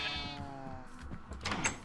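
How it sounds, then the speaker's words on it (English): A sheep in the Minecraft video game bleats in a wavering, nasal tone across the short stretch, with game sounds and soft clicks underneath. "I'm going to isolate that sheep in that corner"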